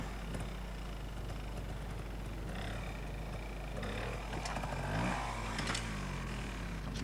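A Yamaha trials motorcycle at a 1986 trials event sets off, its engine rising and falling in pitch as it pulls away, fairly faint and distant over a constant low hum and outdoor background.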